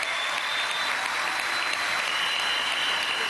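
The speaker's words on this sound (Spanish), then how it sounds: "un gran aplauso a ustedes" Dense, continuous applause from a crowd at a Venezuelan government youth agricultural programme event, loud and even throughout, with no voices standing out.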